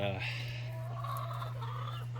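Chickens in a coop with a laying box give soft, low clucks over a steady electrical hum, close and brief.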